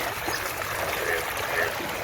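Steady rushing water flowing through a small channel near flooded paddy fields during monsoon-like rain in a Konkan village, a continuous broadband wash at moderate level with no clear talk.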